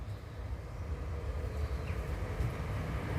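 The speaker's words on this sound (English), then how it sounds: "There are trains coming" A passing train heard from an outdoor garden, a steady low rumble and rolling noise at moderate distance, continuous and unbroken with no talking.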